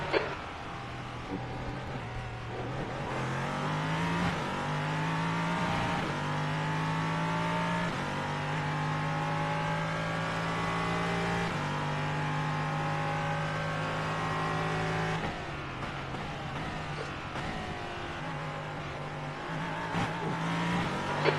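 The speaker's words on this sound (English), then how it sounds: "I'm just driving this Porsche on Spa" A Porsche race car in a racing video game laps Spa, its engine revving loudly and continuously through rising and falling gear sweeps with brief shifts, steady and close throughout.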